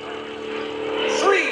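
A 350-horsepower MX2 aerobatic airplane performs at the 2012 Greenwood Lake airshow, its engine a steady, loud drone that swells and sweeps sharply in pitch near the end as it climbs and pulls over, with faint talk in the background.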